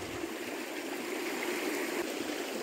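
A mountain stream flows over rocks, a steady close rushing and burbling of water, continuous and even throughout with no voices.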